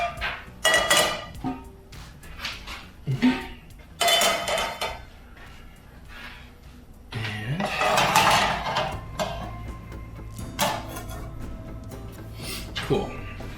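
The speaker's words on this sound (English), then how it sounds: "we're gonna want to get pans. Our actual, crap baskets. Our actual cooking pans." Metal cooking pans and baskets clatter and clank as they are pulled out and handled in a home kitchen before a grilled cheese cook-off, with repeated bright clinks and scrapes in bursts. A person talks in between.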